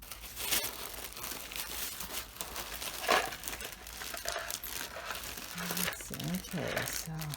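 Packaging on a craft kit box crinkles and rustles while it is unpacked by hand, continuous close handling noises with a few sharper crackles, and a voice talks intermittently over it.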